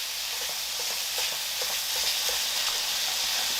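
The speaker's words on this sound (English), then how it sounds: "what we're trying to do is obviously brown the meat," Ground meat for lasagna sizzles loudly as it browns in a pan, a dense steady frying hiss with soft scraping stirs scattered throughout and no talking.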